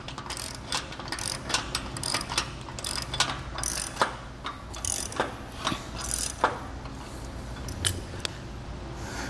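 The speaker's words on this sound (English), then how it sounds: "Now let's grab our socket and tighten it down." A socket wrench ratchets in a rapid run of clicking strokes as it tightens the plate of a tongue-mounted crossbar onto a Malone MicroSport trailer, close and steady with short pauses between pulls.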